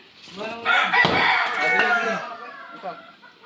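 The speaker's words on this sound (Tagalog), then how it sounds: "Nagkakagulong manok." Chickens and a rooster in commotion give one loud, close, drawn-out squawking call lasting a few seconds, rising and then fading, followed by a short quieter cluck.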